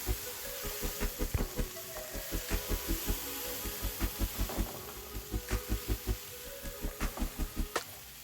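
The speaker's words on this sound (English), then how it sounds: "adding in some finely chopped bell peppers and also some onion and garlic. Okay, we're just going to allow this to saute for at least a minute" Chopped bell peppers, onion and garlic sauté in a pan with a soft, constant sizzle, broken by a steady series of quiet rhythmic taps and scrapes as the vegetables are stirred.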